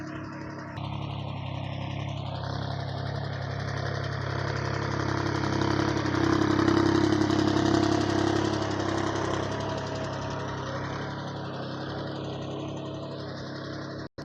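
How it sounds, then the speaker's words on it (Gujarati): A three-piston Mitsubishi VST 18 horsepower tractor engine runs steadily nearby, a continuous low chugging drone with a faint rise in level midway and a slight shifting whine above it. "અમારું ટ્રેક્ટર છે Mitsubishi VST 18 horse power 3 piston વાળું"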